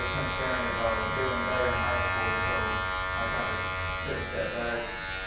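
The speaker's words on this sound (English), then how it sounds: "I'm gonna take the guard off, open the clipper all the way up." Electric hair clippers with the guard removed buzz steadily at close range while cutting hair during a men's haircut and beard trim, a continuous drone with faint talk in the room.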